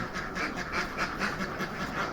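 Mojosari ducks, also called ratu ducks, quacking on an Indonesian poultry farm, a dense continuous chorus of overlapping calls with a rhythmic pulse, close and fairly loud, with no talking.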